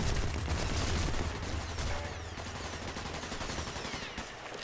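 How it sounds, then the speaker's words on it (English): Gunfire in a multiplayer shooter video game, a dense continuous rattle of rapid shots with heavy low rumble, loud and close, easing slightly in the second half, with no talk over it. "Right where the shooting is at"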